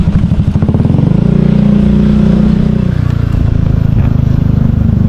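A motorcycle engine runs close and loud for several seconds, a steady throbbing putter with a rough, clattery edge, no voices heard over it.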